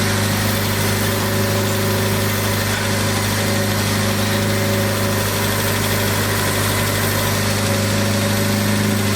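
A 1979 Triumph Spitfire engine idling steadily, a loud, close, constant low hum with a smooth unbroken drone and no voices.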